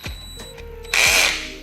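A power drill whirs in short bursts during work on a custom Lagun table mount for a converted Ford Transit, with a brief spin-up followed by a louder, sustained whine, close and alone.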